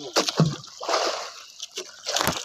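Sea waves splash and slosh against the hull of a small fishing boat out on choppy water during squid fishing, several irregular splashes close by, with a faint voice in the background.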